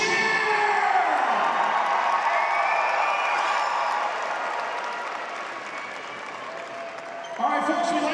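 A large crowd at an indoor arena football game applauds and cheers loudly for a cheerleading squad, with whoops rising over steady clapping that thins out before a voice breaks in near the end.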